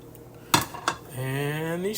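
Potatoes and green beans are dropped into a cooking pot with two quick, sharp clattering knocks, followed by a soft scraping stir, close and fairly quiet.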